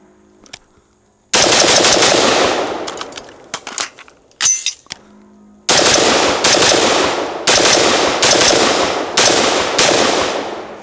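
An AR-15-style rifle, the Hi-Point HP-15, fires a string of loud, close, sharp reports, with a pause of clicks and handling noise mid-sequence during a magazine change before more evenly spaced shots ring out.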